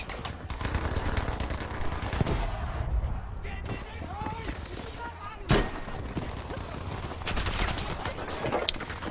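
In Battlefield 5, an SMG fires in rapid bursts amid dense battlefield gunfire. The crackle is loud and near, and one sharp crack stands out mid-clip.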